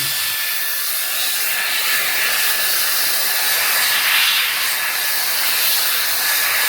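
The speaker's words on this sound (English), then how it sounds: "So I take the duster" A 150,000 RPM brushless electric air duster blows a loud, steady, airy hiss without a break, with no voices over it.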